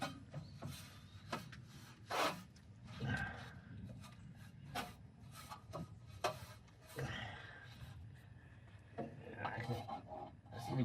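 A cheap Harbor Freight paintbrush scrubbing grease off a Hasty Bake Gourmet 259 charcoal grill, with repeated close bristle rubbing strokes mixed with scraping and someone speaking over it.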